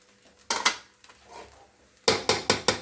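Metal spoon striking a pot of pulao held by its handle while stirring: a few clattering knocks, then a quick run of four sharp, close metallic clanks.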